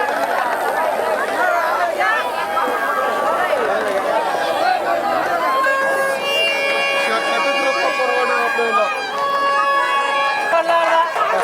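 A large crowd of devotees chatters and moves at a hilltop Shiva temple at noon, a dense steady babble with some whistles or tones partway through and a voice talking over it.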